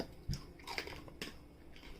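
Crisp, crunchy bites and chewing of a pepper up close, a few sharp crunches followed by softer mastication, with no voices.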